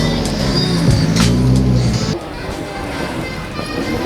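Rally cars lined up at a car park rally at Changi idle and rev as they warm their engines, a loud close rumble that eases after a couple of seconds, with talking over it.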